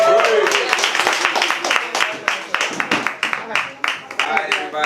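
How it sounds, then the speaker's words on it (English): An audience at a writing session applauds in a dense burst of many hands clapping, then thins to scattered claps. "y'all give a round of applause"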